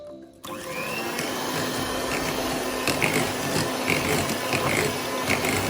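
An electric hand mixer beats sugar into eggless sponge cake batter, a steady whirring drone that runs close and continuous after a short start, with faint rattling from the beaters in the bowl.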